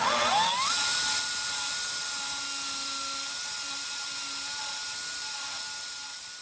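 A power drill bores out holes in an Isuzu truck bed, a loud high whine that starts sharply, settles into a steady drone and slowly fades over several seconds, with no talking.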